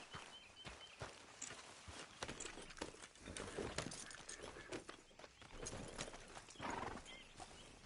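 Steady clip-clop of horse hooves at a trotting pace, close and continuous, with an occasional whinny, over a faint background of ambience from the video game Red Dead Redemption 2.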